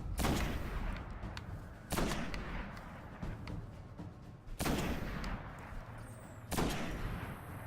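Sniper rifle shots in the Destiny video game, several loud sharp cracks spaced a couple of seconds apart, each trailing into a long booming echo over a steady ambient rumble.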